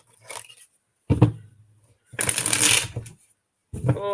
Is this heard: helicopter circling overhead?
no